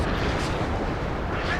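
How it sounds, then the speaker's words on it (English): Artillery strikes in the WARNO video game, a dense continuous rumble of blasts and booms under a voice talking. "Classic WARNO, just artillery spam."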